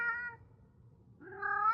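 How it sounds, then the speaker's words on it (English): A cat gives two short, quiet meows separated by a brief pause, heard alone at close range. "Does Kitty need Mommy's affection?"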